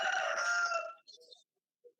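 A rooster's crow ends in a drawn-out harmonic call lasting about a second, followed by a couple of faint, brief clucks in an otherwise quiet setting.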